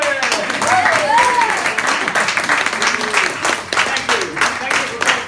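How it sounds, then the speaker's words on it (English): A comedy club audience claps and cheers for a guest at a stand-up show, a dense burst of applause mixed with whoops and voices, loud and sustained throughout with a brief dip near the middle. "applause for Heather from Cambridge!"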